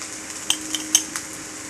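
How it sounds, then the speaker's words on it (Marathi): Crushed peanuts going into a cooking pan and being stirred, with a few light metallic clinks of a spoon against the pan over a quiet sizzle, no talking. "तर शेंगदाण्याचं कूट घालते आता मी"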